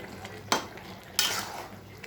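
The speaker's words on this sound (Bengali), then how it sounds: "এবার আমি এটাকে বাড়িয়ে অনেকবার নাড়বো।" Chicken kosha stirred in a pan, two sharp spoon scrapes against the metal, each followed by a brief rustling sizzle, close and alone with no talk.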